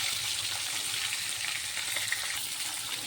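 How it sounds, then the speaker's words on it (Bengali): Koi fish frying in hot oil in a pan, with a steady, close hiss of sizzling that holds at an even level throughout. "মাছটা আমি উল্টে দিচ্ছি, ভাজা হয়ে গেছে এক পাশে।"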